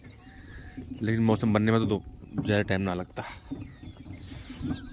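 An Asian koel's repeated calls ring out in the background while someone talks in the foreground inside a Volkswagen car, the calls faint and intermittent.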